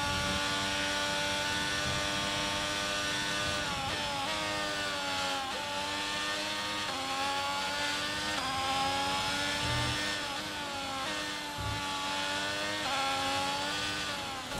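An F1 car in the F1 22 game drifts sideways through corners at Zandvoort in changing wet conditions, its engine whining steadily and rising and falling in pitch as it goes through the turns. It is loud and continuous with no voices.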